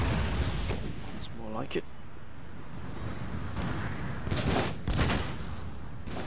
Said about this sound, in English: Please begin the fire. Please begin the barrage.